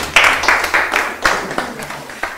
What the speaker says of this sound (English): You guys should give him a round of applause.